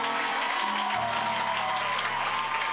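Congregation applause during a French-language church service, a steady wash of clapping and cheering with a held tone underneath, continuous and fairly loud for a few seconds.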